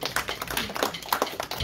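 A small group claps hands in welcome, producing a quick run of sharp, close claps with faint voices underneath.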